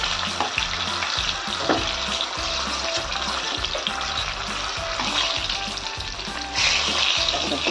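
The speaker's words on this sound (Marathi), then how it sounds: "आपली मिरची पण छान तळून झाली आहे थोडं असं तळायचं आहे आपल्याला" Green chilies frying in oil beside drumstick-flower bhaji, a continuous close, crackling sizzle with a brief surge of louder spitting near the end and no voices.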